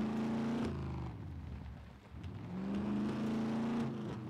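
A car in the SCUM survival video game drives along a main road with a steady engine drone that dips in pitch, then swells and revs again, with no talk over it.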